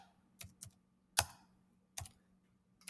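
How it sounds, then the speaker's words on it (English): Numbers are typed into a computer keyboard for a linear regression demo: a few sparse, crisp key clicks and taps in small clusters, close by, in a quiet room. "So I typed in all the X's. Now I'm going to type in all the Y's."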